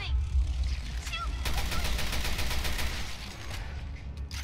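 Gunfire in the video game Resident Evil: Revelations 2 as a monster attacks: a rapid, sustained burst of repeated shots over a rumbling low background, with brief voices mixed in.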